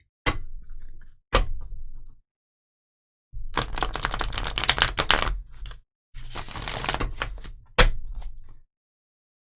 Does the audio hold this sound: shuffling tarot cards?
yes